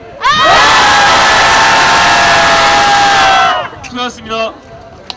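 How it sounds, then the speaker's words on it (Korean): A crowd of disability education rights campaigners at a press conference outside the National Assembly lets out a loud, sustained cheer lasting about three seconds, then breaks off into scattered voices and brief claps. "우리 마지막으로 힘차게 함성 지르면서 오늘 기자회견 마치도록 하겠습니다. 힘찬 함성 하나 둘 셋!"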